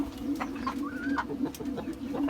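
Pigeons feeding among rooftop poultry give soft, low cooing murmurs over a steady background hum, with faint clucks and a brief higher call mixed in.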